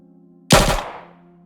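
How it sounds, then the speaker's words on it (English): A single sharp gunshot sound effect cracks out loud and close during a tense poker-game murder scene, its burst decaying over about a second against a low steady hum. "and the sound of a gunshot"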